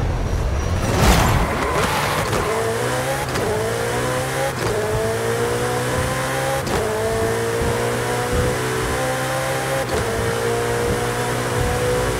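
A 2020 Ferrari SF90 Stradale in Forza Horizon 5 launches hard, its engine climbing through several loud rising sweeps separated by quick gear shifts, with a brief whoosh at the start.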